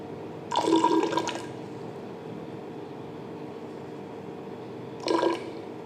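Water poured into a laboratory beaker, about 10 ml measured out for a chalk powder suspension; two short splashing pours, the first longer, the second brief, heard close over a steady room hum.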